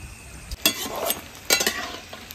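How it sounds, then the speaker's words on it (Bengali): Oil sizzles softly with bursts of louder crackling as chicken pakoras are stirred while frying, close by, no talking. "আমি কিন্তু এইভাবেই সবগুলো ভেজে নেব।"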